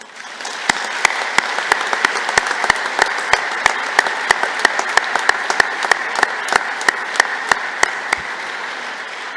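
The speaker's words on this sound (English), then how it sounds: "So I'd like you to join me in thanking them with a warm round of applause" At a university graduation ceremony, a large audience gives a loud, sustained round of applause, with sharp individual claps standing out over the dense clapping throughout.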